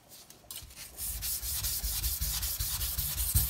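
A kitchen knife blade is worked on an extra coarse whetstone such as a 200–220 grit stone, with steady rasping strokes repeating rhythmically up close, loud and gritty with no talk.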